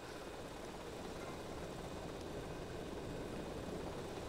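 Steady, broadband rotor-and-engine drone of a helicopter in GTA Vice City, a continuous even roar at moderate level with no talk over it.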